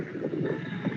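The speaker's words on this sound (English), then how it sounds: "It's windy now. Dry season here is windy." Wind buffets the microphone in a steady low rumble, gusting slightly, with no voices.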